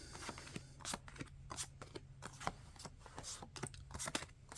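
Tarot cards are shuffled close by in quick, crisp riffles and flicks, a rapid irregular patter of soft snaps.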